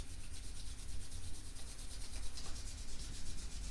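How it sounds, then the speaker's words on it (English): Palms rubbing together gently, including between the fingers, a soft continuous swishing friction close to the microphone, quiet and steady with no voice over it. "Gently rubbing our palms even between the fingers."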